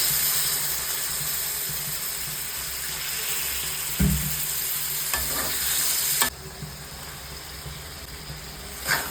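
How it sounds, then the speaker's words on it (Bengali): Dried fish curry simmering with a little water in a pan, making a steady bubbling sizzle throughout, with a couple of stirring knocks, close by and moderately loud. "মাছটা একটু জল দিয়ে জাস্ট ফুটিয়ে নেব।"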